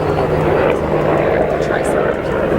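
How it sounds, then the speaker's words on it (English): A helicopter flies overhead near a full-time RV campsite, its broad engine roar loud and steady throughout, with faint talking underneath. "There's a helicopter flying."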